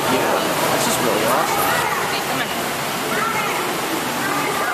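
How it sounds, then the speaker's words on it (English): A small waterfall pours steadily and close by, a dense, even rush of falling water that fills the whole moment, with faint voices mixed underneath. "A little waterfall."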